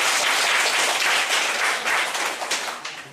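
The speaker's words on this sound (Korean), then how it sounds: "박수 주세요." Participants in a school-violence-prevention instructor training lecture clap for a role-play, a brisk, fairly close burst of hand claps that thins out toward the end.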